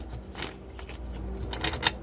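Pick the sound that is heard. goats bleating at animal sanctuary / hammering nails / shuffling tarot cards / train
shuffling tarot cards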